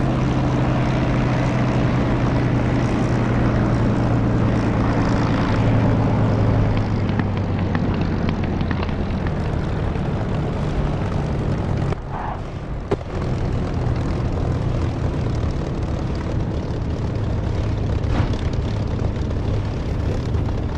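Propeller engine drone of a Spitfire landing in the DCS flight simulator, a loud steady aircraft hum that eases and shifts pitch as the plane rolls out, with no voices.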